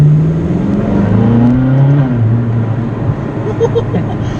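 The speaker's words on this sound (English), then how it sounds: "there wasn't a lot of throttle, and that was just a nice little spurt of acceleration" A Ferrari California pulls away under light throttle, its engine note rising in a short, smooth spurt of acceleration heard from inside the car, steady and fairly loud, with talk over it.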